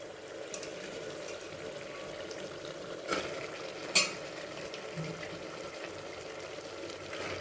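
Broad beans stirred into a simmering vegetable curry in a pan give a soft, continuous low sizzle, broken by a few sharp scraping clinks of the spoon.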